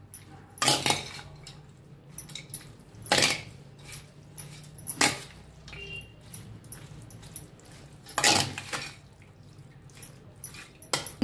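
Spoon stirring fresh yogurt into a cabbage koshimbir salad in a bowl, with scattered clinks and wet scraping strokes, several sharper knocks against the bowl at irregular intervals, close and clear with no talking.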